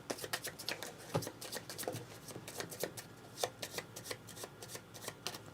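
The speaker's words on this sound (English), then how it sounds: "So let's stop there and then shuffle." A deck of cards is shuffled during a three-player Dominion board game, giving a rapid, steady riffle of crisp card flicks that runs for several seconds, close and fairly quiet.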